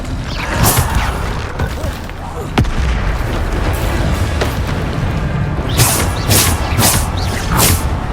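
The Bombarda explosion spell is cast in the Hogwarts Legacy video game, giving heavy booms and crashing impacts over a dense, continuous mix of game effects and noise, with several sharp blasts toward the end.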